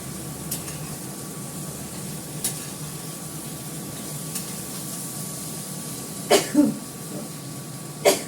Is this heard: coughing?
yes